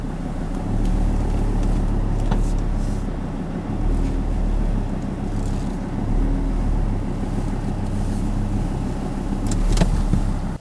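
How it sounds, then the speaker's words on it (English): A ute reversing in underneath a slide-on camper, its engine a steady low rumble with gusts of wind noise across the microphone and a couple of faint knocks, without speech. "time to back the ute back in underneath"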